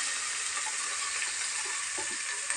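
Freshly chopped vegetables and onions sizzle steadily in hot oil in a home kitchen pan, a constant bright hiss with faint occasional stirring clicks and no talking.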